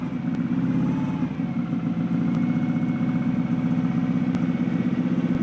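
A 1999 Subaru WRX hillclimb race car engine running just after a winter-long start, a loud, close, rough idle with a steady low rumble and slight uneven stumbles, no voices.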